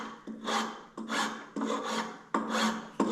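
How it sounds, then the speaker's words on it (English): A steel file rasps steadily across a knife handle in five even back-and-forth strokes, close and crisp, each stroke a gritty scraping burst with short gaps between. "the steel files are good for smoothing things out"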